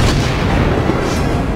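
A warship's main gun fires in the naval video game World of Warships Blitz, a loud, deep booming blast with a rumbling tail filling the short moment.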